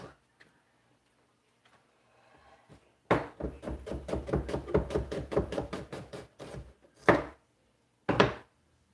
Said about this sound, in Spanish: vamos a partir la cebolla